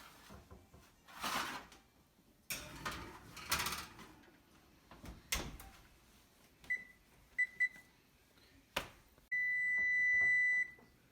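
A kitchen oven gives a run of short electronic beeps and then one long steady tone near the end, after several clunks and knocks like a door opening and closing.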